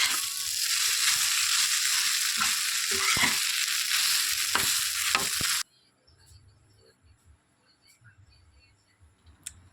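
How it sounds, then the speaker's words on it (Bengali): Maggi noodles with masala being stirred in a steel pan, a dense sizzling scrape with clicks of the utensil for about five seconds, then cutting to quiet scattered taps and faint rustling. "ভালো করে নাড়াচাড়া দেওয়া হচ্ছে দেখে নিন সব মশলাটা যাতে মিক্স হয়ে যায়"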